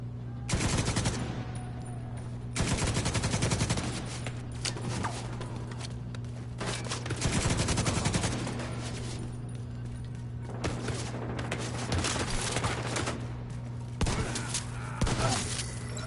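Repeated bursts of automatic gunfire from The Division 2 come in several loud volleys separated by short gaps, with a steady low hum running underneath throughout.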